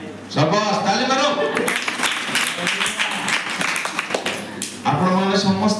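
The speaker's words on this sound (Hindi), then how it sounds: "शाबाश ताली मारो" Congregation clapping at a Christian church sermon, a burst of applause between stretches of a preacher's loud speech, with the clapping strongest in the middle of the clip.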